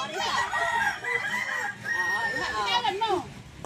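A rooster crows close by in a long, loud, wavering call with clucking mixed in, while voices murmur in the background.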